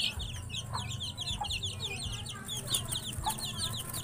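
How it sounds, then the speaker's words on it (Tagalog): Chickens and young chicks in a coop make soft repeated clucking and high peeping calls, close and continuous, with a low rumble in the background. "Yan mga kamanok oh."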